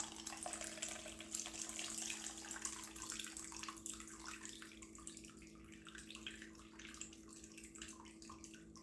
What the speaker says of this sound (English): I'm just gonna put that through my sieve right there.